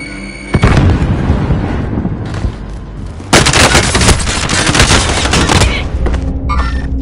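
A frag grenade blast and heavy gunfire in the Warzone battle royale game: a sharp boom at the start, then sustained loud bursts of close automatic fire that cut off near the end.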